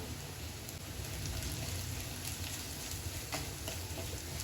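Onions and dried chili powder sautéing in hot oil, a steady soft sizzle and crackle with faint stirring scrapes, fairly quiet and continuous throughout.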